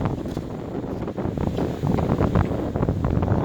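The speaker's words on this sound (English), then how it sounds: "it's a windy day" Steady wind buffeting a microphone outdoors, a loud continuous rumbling roar with gusty surges throughout.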